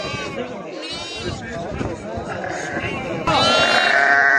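Sheep at a livestock market bleat repeatedly, close and loud, several overlapping calls with a sharp louder one near the end, while people talk and chatter in the background.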